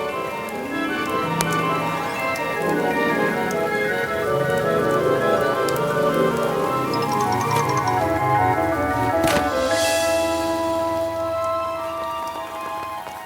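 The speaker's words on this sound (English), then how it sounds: "The rain was falling more slowly, too." Rain patters steadily throughout, blended with gentle tonal music, with no voices heard.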